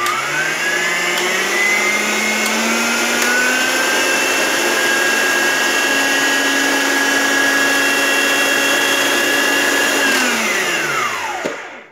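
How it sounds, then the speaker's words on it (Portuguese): An Arno planetary stand mixer runs loudly and steadily with a constant motor whine for about eleven seconds, then winds down and stops at the end. "Nível de ruído, ela não é uma batedeira silenciosa."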